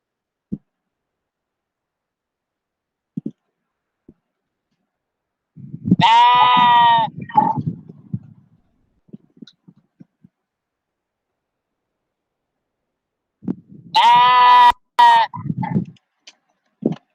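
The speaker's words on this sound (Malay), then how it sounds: "Ini bunyi biri-biri." Sheep give two loud bleats a few seconds apart, each a wavering cry, with faint clicks and shuffling between them.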